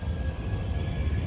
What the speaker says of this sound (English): You can hear the plane.